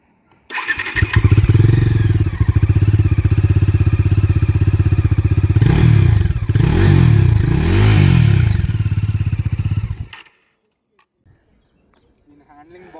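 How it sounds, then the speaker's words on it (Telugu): Bajaj Dominar 400 2025 motorcycle starts up and idles loudly and close by for about ten seconds, its exhaust note rising in two brief revs near the middle before cutting off into silence. "డామినర్ 400 ఎగ్జాస్ట్ సౌండ్ విన్నాం"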